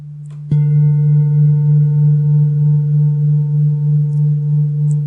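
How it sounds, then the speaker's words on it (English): A singing bowl is struck once and rings with a steady, sustained pure tone that hums on loudly without fading. "Listen to the sound of the bowl."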